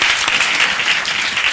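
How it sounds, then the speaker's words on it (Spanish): Loud, dense applause from a live talk-show audience clapping for a guest named Fernando, a continuous wash of many hands for a second and a half with no speech. "Un aplauso para Fernando porque ha dicho gilipollas y me ha gustado mucho."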